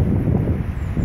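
Steady wind rumbling and buffeting in a park on a cold day, a low continuous roar with gusts, fairly loud, no voices.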